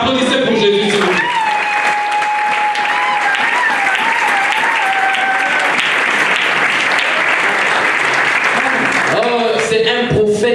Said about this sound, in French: Oh là là, applaudissez pour Jésus,